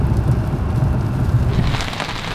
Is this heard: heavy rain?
yes